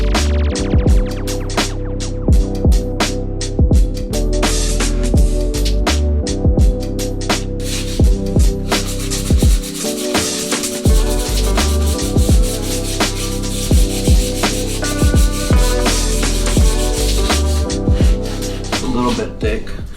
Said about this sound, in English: All right, so we're going to sand.